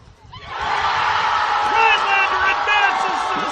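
A stadium crowd at a high-school soccer sectional roars after Rhinelander wins a penalty shootout, a loud sustained wall of cheering and whoops that swells and holds.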